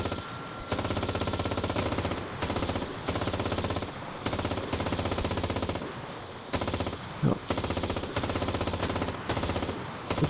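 Sustained machine gun fire in the CRSED shooter game, long rapid bursts broken by brief pauses, loud and close, with a sharp impact among the rounds.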